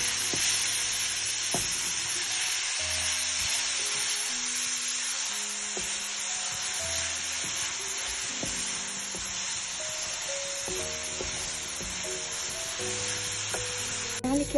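Onion, garlic and ginger frying in a home kitchen pan give a steady, close sizzle throughout, with occasional soft clinks and stirring scrapes.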